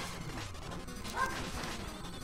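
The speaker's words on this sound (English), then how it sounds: "Oh my goodness, dogs. Now's not the time to be barking." Dogs barking in the video game Shovel Knight, a few barks poking out of dense game music and effects.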